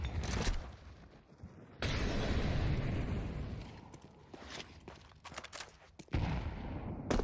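A grenade detonates in a competitive video game match: a sudden loud, broad blast lands partway through, surrounded by clattering gunfire and mechanical game noise, with no talking.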